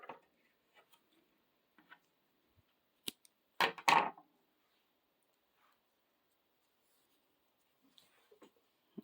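A burst of snipping near the middle as scissors cut crochet yarn, a short crisp double cut standing out from faint handling ticks and rustles in an otherwise quiet room.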